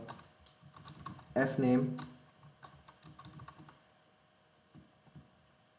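Typing on a computer keyboard at a steady pace, with the clicks of the keys mixed in with someone speaking Hindi and one louder burst of speech partway through.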